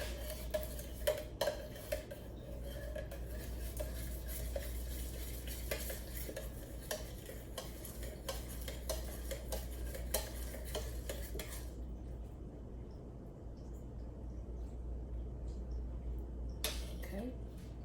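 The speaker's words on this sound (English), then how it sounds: "Let me stir it up a little bit" A spoon stirs a honey ginger garlic butter sauce, making repeated quiet clinks and scrapes against the pot over a soft, low background hum. The sauce is near and faint, with only a slight sizzle.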